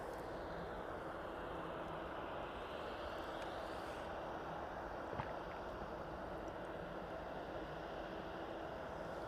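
Jet airliner from Dublin taxiing at East Midlands Airport, a steady broadband engine roar that holds at even loudness throughout without rising or fading.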